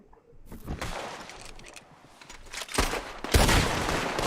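Gunshots in the Western video game Red Dead Redemption: a rapid run of sharp, loud reports, the heaviest bursts near the end, with no talk over them.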